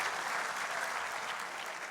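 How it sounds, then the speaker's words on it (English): A university convocation audience gives a short burst of steady, even applause, dense clapping that fills the brief moment at a fairly soft level. "Give her a hand, round of applause."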